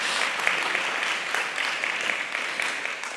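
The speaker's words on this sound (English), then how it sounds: "So let's give them a round of applause," Steady applause from a conference audience for visiting women scientists on an urban-agenda panel, a dense, continuous roar of many hands clapping, full and close, with no talk over it.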